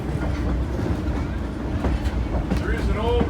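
Heritage train rolling along the rails near Strasburg, Pennsylvania, a steady low rumble and rattle of the passenger cars with faint clicks and squeals, voices chatting in the background throughout.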